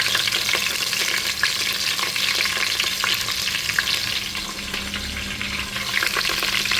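Chillies and curry leaves fry in hot oil for chivda, a loud, dense, continuous sizzle with stirring up close and no talking.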